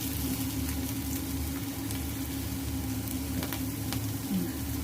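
Minced beef patties with shiitake mushroom and water chestnut pan frying in oil, a continuous, even sizzle with a low hum beneath, steady and close throughout.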